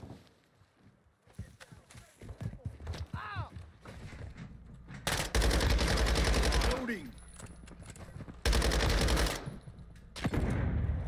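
Automatic gunfire in Modern Warfare multiplayer, loud bursts of rapid shots at close range, alternating with quieter stretches of game sounds and movement, with someone talking over parts of it.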